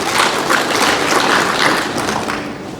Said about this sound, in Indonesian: Tepuk tangan buat UT.